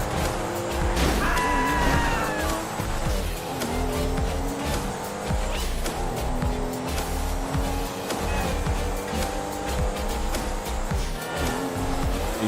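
A car in GTA V Online races hard with a revving engine and repeated tire squeals and skids, loud and close throughout, the engine rising and falling as it corners.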